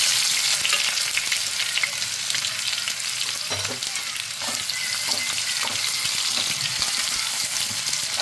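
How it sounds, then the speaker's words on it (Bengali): Chopped onions with cinnamon, cloves, cardamom and a bay leaf fry in hot oil, giving a steady dense sizzle with occasional soft stirring scrapes, close and alone. "আর 3টে ছোট ছোট পেঁয়াজ কুচি দিয়ে দিলাম।"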